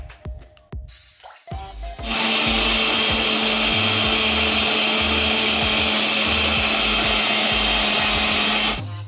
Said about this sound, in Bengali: এবার ওস দুটো কলা নিয়েছি আর এক চামচ পিনাট বাটার নিয়ে জল দিয়ে এটা মিক্সড করে নেবো